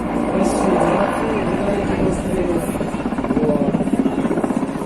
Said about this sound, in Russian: очень красиво можно демонстрировать вертолетную технику